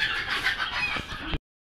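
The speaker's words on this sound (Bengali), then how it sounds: "মুরগিগুলান চিল্লাচিল্লি করতেছে কেন এখন দেখি একটু।" Chickens squawking and clucking in a noisy, agitated burst from a backyard flock, close and fairly loud for just over a second before stopping abruptly, with no voices.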